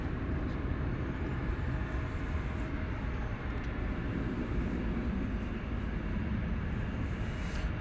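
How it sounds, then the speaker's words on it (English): An Airbus A320 at DFW Airport after dark gives a steady, broadband jet roar that holds at an even, moderate level from start to finish, with no voices. "It's an Airbus A320."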